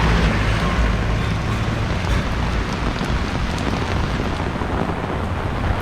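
Heavy tropical storm rain pours down in Jaco, Costa Rica, a dense, loud, continuous hiss and roar of water striking surfaces nearby, unbroken for the whole stretch, with no voices.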